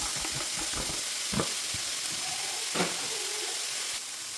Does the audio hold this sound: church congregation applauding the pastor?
no